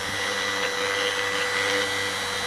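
An electric window motor runs in reverse with a steady, even whir and hum that holds at a constant level throughout, with no talking.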